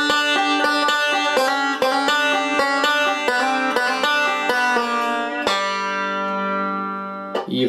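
Slowed-down banjo picking of a bluegrass roll with a chromatic run and hammer-ons, evenly spaced plucked notes ending on a ringing sustained note, close and alone.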